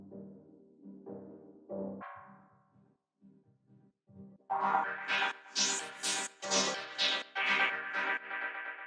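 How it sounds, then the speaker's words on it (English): A tech house drum loop run through an Ableton resonator gives pitched, ringing hits, sparse and quieter at first, then denser and brighter in a steady rhythmic pattern, with no talk. "So the next layer we have here is this little drum loop resonator thing"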